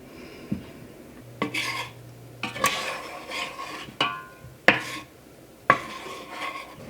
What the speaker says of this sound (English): I prefer a wooden spatula like this one to stir my candy.